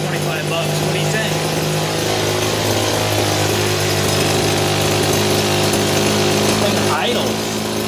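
A small engine on cheap secondhand power equipment runs at a steady, loud idle with a constant low drone, close by throughout.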